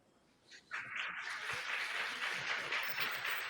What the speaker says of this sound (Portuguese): não sei se o senhor está escutando aí os aplausos